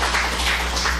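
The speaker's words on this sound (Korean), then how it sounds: "우리 박수 한번 치시죠" A church congregation applauding, a steady, dense wash of clapping hands filling the room at close range without pause.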